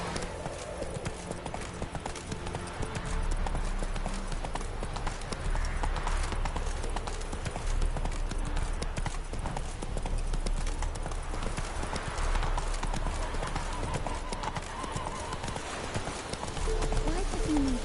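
Horse hooves gallop in a steady clip-clop rhythm throughout, a ridden horse in The Witcher 3 video game, loud and close over a low continuous rumble, with brief speech and music faintly underneath.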